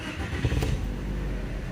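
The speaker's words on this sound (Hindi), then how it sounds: "तो गाड़ी स्विच बंद कर दोबारा स्टार्ट करो" A Toyota Yaris engine is restarted close by, a short crank that catches into a low, steady idle rumble, quiet and heard alone.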